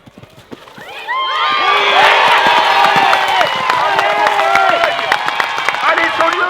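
Horses' hooves thud at a four-star show jumping event in Saulieu, a quick irregular patter running beneath a loud crowd that cheers, whistles and calls out throughout.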